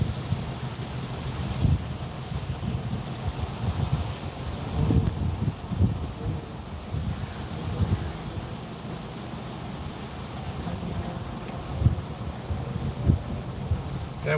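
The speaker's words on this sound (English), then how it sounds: "That wind just will not quit." Strong wind gusts steadily and roughly outdoors, a continuous broadband rush with low rumbling buffets against the microphone and no talking.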